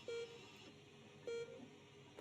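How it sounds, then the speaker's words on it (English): A heart monitor in the game Not For Broadcast sounds two soft, evenly spaced electronic beeps about a second apart over a quiet hum. "The rhythmic beeping of the heart monitor brings you slowly back to consciousness"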